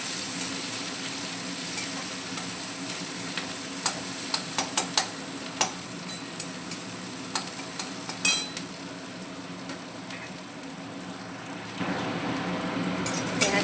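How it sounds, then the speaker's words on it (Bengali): Sliced onion fries in a pan with a soft continuous sizzle while a metal spatula scrapes and taps against it in irregular clicks, close and moderately loud, with no talking. "তারপর পেঁয়াজটা দিয়ে একটু ভালো করে নেড়ে নিতে হবে"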